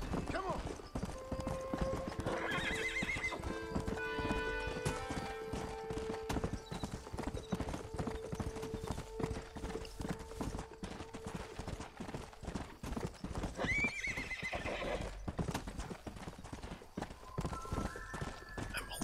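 Rhythmic hoofbeats clop steadily throughout, with a horse whinnying a couple of times amid Red Dead Redemption game sounds.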